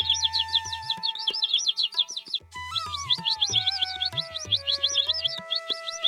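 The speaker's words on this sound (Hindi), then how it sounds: "पेड़ों पर पक्षी चहचहा रहे थे।" Cartoon forest birds chirp in busy, repeated high tweets over sustained whistling tones that slide downward midway, with soft low thumps underneath, bright and close throughout.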